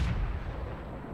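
A single heavy tank cannon shot in the World of Tanks video game, a loud booming blast at the start that decays into a long rumbling tail, with no talking.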